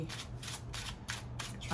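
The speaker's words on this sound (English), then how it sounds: "be extra and shuffle all fast" Tarot cards shuffled fast in repeated riffling bursts, about five quick rustling strokes, close and clear, with a low steady hum underneath.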